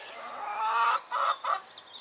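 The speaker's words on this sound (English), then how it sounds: "And there, some chickens." Chickens cluck in a few short bursts, fairly close, in a garden with a quiet outdoor background and no talking.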